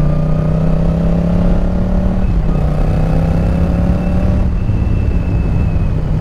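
Yamaha Tracer 700 motorcycle engine while riding on a rough road, a steady loud drone with rising pitch as it pulls, a brief dip near the middle before it builds again, with no voices.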